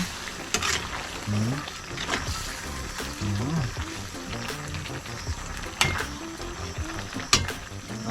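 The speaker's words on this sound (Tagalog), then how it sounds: "Konti toyo lang. Tapos ating haluin." Food being stirred in a frying pan after a small splash of soy sauce, with a steady sizzle and scattered scraping clinks of the utensil against the pan, moderately close, with some faint background voices.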